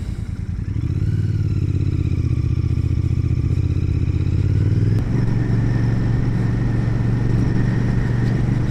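A 2025 Royal Enfield Bear 650 motorcycle is ridden, its engine a loud, steady, close thrum that rises as it accelerates, then shifts gear about halfway through and carries on at a lower, even drone.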